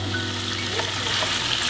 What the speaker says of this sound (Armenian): միսը տապակում ենք,